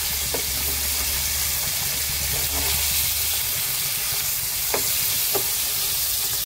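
Fish fries crisp in a pan with a steady, loud broadband sizzle and hiss throughout, broken by a few sharp spits and pops toward the end, with no one talking.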